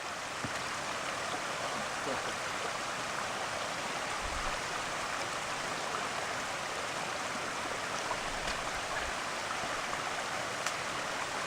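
Steady rushing water from a beaver dam pours and gurgles continuously at close range, a dense, unbroken flow with no voices.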